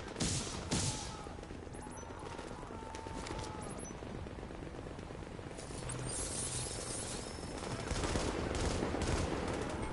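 Enemy turret gunfire in a PS4 shooter game, a dense continuous rattle of rapid shots and crashes filling the mix, with no speech over it.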